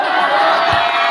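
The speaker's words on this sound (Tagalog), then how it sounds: "Grabe yung crowd natin dito sa Utlanan." A big crowd at an outdoor one-on-one basketball game in Utlanan, Mandaue City roars loudly and continuously in a dense wash of cheering and shouting.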